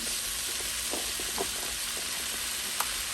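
Peppers and mushrooms sizzle in a pan on a steady, even fry, close and continuous, with a few soft stirring clicks and scrapes scattered through and no talk.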